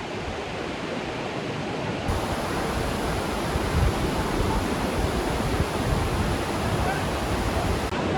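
Tumpak Sewu waterfall in Indonesia, a loud, dense roar of falling water close by, continuous and steady throughout.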